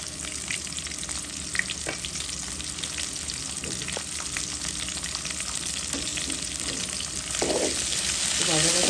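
Mixed vegetables with onion, tomato, sweet pumpkin, eggplant and dried fish fry in a pan with a steady close sizzle, broken by frequent scraping and stirring clicks that grow a bit louder near the end.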